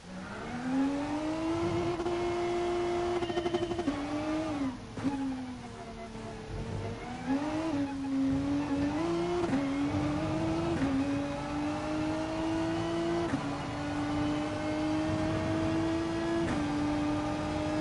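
A race car in Gran Turismo Sport revs through corners, its engine note rising steadily then dropping sharply at each gear change or lift, repeating in waves over a continuous loud drone, with no talking.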